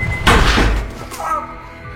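A young man's head is slammed against a door in a Korean drama, landing as one loud, heavy thud with a brief rumble that quickly fades, and no voices alongside it.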